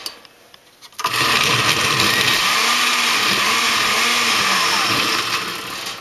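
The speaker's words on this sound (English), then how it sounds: "so you know what a blender looks like" After a moment of quiet, a blender whirs to life and runs steadily at a loud, constant pitch with a rough grinding edge.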